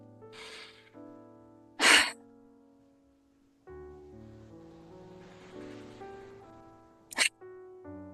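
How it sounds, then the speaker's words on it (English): A person breathing in a guided stress-relief exercise pushes out sharp, forceful breaths through the mouth, two strong bursts clearly audible and well spaced over quiet music, the other softer and lost in the background. "push that breath out fast and hard 3 times"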